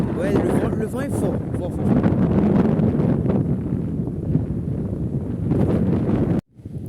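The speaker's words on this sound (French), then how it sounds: "Ouais, le vent est fort." Strong wind on a coastal fishing point buffets the microphone in loud, rumbling gusts, with a voice talking through it, before cutting off abruptly at the end.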